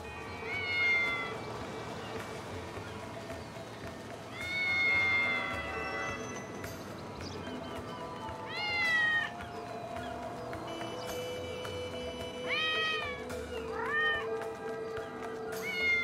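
A cat in Grand Theft Auto 5 meows repeatedly, with drawn-out, rising and falling cries spaced a few seconds apart over a steady hum of game ambience.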